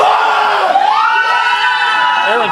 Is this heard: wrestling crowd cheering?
yes